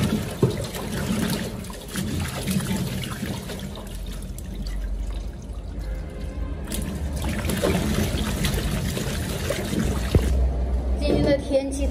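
Fresh plums being rinsed in water, a steady close splashing and trickling with occasional drips, faint voice-like sounds mixed in, outdoors on a hot summer day.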